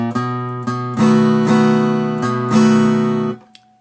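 Slow blues guitar pattern on acoustic-toned strings: alternating bass notes and strummed chords, a handful of distinct attacks ringing out clearly before stopping, loud and close with no talking.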